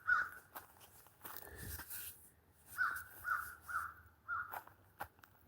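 Crows caw repeatedly from trees around a possible nest outdoors, a series of about six harsh calls at moderate distance, spaced irregularly with a brief pause midway, over quiet background rustling.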